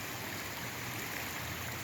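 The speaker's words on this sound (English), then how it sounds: "So this river right here is called the Leith River." The Leith River flows past the University of Otago in a steady, broadband rushing of water, close and continuous, with no voices over it.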